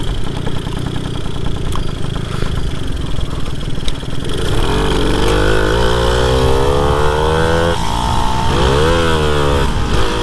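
Moped engine carried along a trail, a steady loud motor drone with rising and falling revs in the second half, continuous throughout with no talk.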